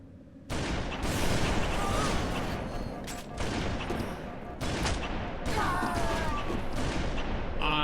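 Gunfire in Halo MCC, a dense loud volley of shots that starts abruptly and keeps going with small breaks. A voice is faintly audible under the shooting.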